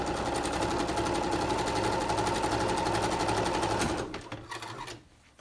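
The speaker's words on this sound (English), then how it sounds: "you just sew straight down the 8-inch side" A sewing machine stitches a straight seam down the 8-inch side of a cloth face mask with a replaceable filter, running steadily and loudly for about four seconds before slowing and stopping.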